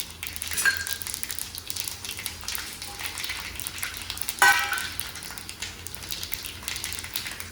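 Mustard seeds and cumin sizzle in hot oil for a Gujarati-style pickle, a continuous close crackle with sharp pops and one louder spatter midway, no voices over it.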